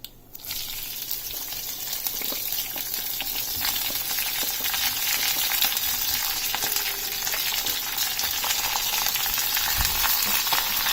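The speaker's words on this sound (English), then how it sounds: "Now let us add in all the vegetables." Mixed vegetables, brinjal among them, sizzle and fry steadily in a hot pan, a dense continuous crackle that swells after a brief quiet start and stays loud throughout, with faint stirring scrapes and no talk.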